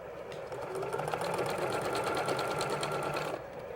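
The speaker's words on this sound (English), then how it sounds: "put it under the machine, and straight stitch again" A sewing machine straight-stitching a fabric triangle, running in a fast, steady mechanical whirr with rapid rhythmic needle clatter, close and loud, stopping near the end.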